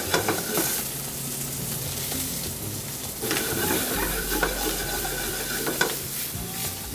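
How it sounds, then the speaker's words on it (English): Brussels sprouts with prosciutto and garlic sizzle steadily in a hot pan, with stirring and tossing scrapes and a low, continuous frying hiss close up, no talking. "We're gonna add our Brussels sprouts here."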